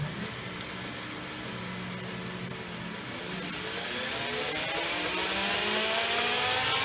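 Heretic Hyperlite 2x72 belt grinder running in reverse, a steady loud motor whine with belt hiss that swells slightly louder in the second half, with no voices over it.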